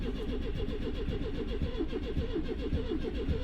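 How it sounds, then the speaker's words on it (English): A Citroen 2CV engine cranks over with a steady, rapid rhythmic churn, loud and close, as it struggles to start with the carburettor nearly out of petrol. "she's going to take a lot of cranking, but she always does"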